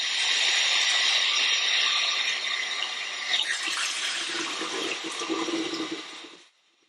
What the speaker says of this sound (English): the key here is just to wash the rice until the water is clear